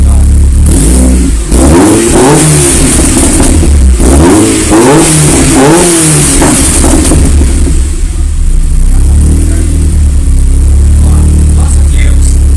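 Honda VTEC engine fitted in a 1972 Classic Mini revving hard while stationary, loud close rising and falling blips repeated several times, then settling into a steady idle.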